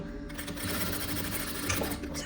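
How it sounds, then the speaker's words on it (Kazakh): A sewing machine runs steadily, stitching and securing the seams of a boy's vest, with its motor hum constant and fairly close throughout, no talking. "Енді мына қалған жерді бекітіп тігіп аламыз."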